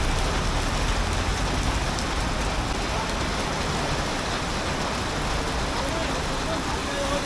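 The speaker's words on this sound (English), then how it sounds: "the rain is really bad. The rain keeps coming down." Heavy rain pours down on a street in Cebu City, Philippines, with water running off a jeepney roof: a dense, steady, loud hiss of downpour that continues unbroken throughout, with a voice faintly present beneath it.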